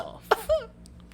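A woman coughs in a TV drama episode about a fever, a single short throaty cough burst followed by a rougher rasp, close and fairly quiet with no talk.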